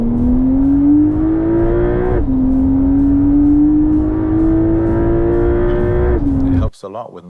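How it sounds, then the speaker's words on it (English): Porsche 911 Carrera T engine revving hard under acceleration, a loud rising wail that climbs, drops briefly at a gear change, climbs again toward a high-rpm scream, then cuts off abruptly near the end. "The second thing I really like is the sound of the engine."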